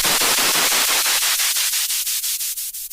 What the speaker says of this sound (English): a bleep noise with a high pass filter